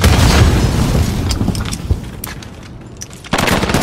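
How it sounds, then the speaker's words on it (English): A flashbang grenade goes off in the shooter game Call of Duty: Modern Warfare on the Petrov Oil Rig map, a loud booming blast amid dense rapid gunfire that briefly thins before another heavy burst. "Flashbang out!"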